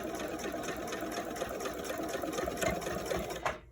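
A sewing machine rapidly top-stitches lacing stays into a fabric mask, a fast, steady mechanical chatter up close that stops abruptly at the end.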